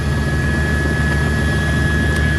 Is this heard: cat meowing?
no